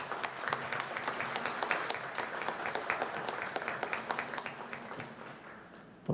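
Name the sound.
applause at ceremony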